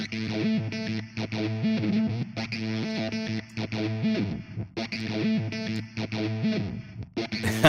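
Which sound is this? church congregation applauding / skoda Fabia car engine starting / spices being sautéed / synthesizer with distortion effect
synthesizer with distortion effect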